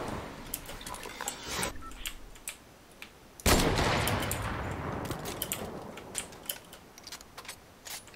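Gunfire in a shooter video game, with sharp repeated shots, one loud blast followed by a long decaying roar, and scattered crisp cracks and clicks afterward, fairly close and dominant.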